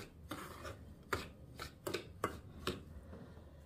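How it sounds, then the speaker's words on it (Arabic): Maamoul dough ingredients, including a pinch of baking soda, being mixed together in a bowl for date and walnut pastries, soft quiet scraping and rubbing strokes with a few sharper taps, close up and low in volume. "نخلط المكونات مع بعضها"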